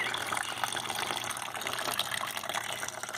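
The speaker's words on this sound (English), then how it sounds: "I've got a pipe running into the tilted bucket so it pours water into it and then dribbles out into the wishing well" Water from a pipe pours into a tilted bucket and dribbles out into a garden wishing well, a steady, hissing splash close by with no one speaking.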